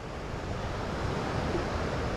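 Sea waves washing onto a beach at Maricá, Brazil, a steady broadband surf roar with a soft wind-like hiss, continuous and moderately faint, with no voices.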